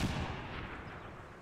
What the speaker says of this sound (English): I'm gonna blow it up now that I can